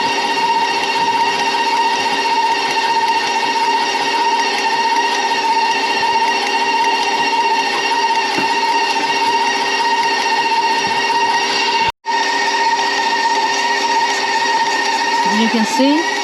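A stand mixer works wet donut dough with a dough hook, a loud steady motor whine with a constant mechanical hum, broken by one brief cut near the end.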